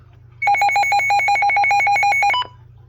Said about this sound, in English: I'm gonna test the siren